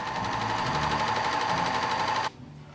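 An overlock serger runs a test seam with its left needle thread rethreaded, making a fast, even, loud mechanical whirr up close that cuts off abruptly near the end.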